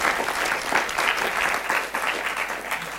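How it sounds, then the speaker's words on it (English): An audience at a university question-and-answer session gives a round of applause, a dense stretch of many hands clapping together at a steady level throughout. "If we just have a round of applause for Keith for coming."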